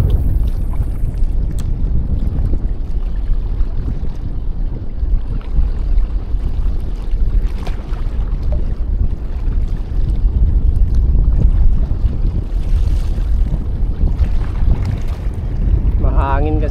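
Strong sea wind batters a small fishing boat out on open water during a barracuda outing, a loud, steady low roar and buffeting that runs the whole time with no pause.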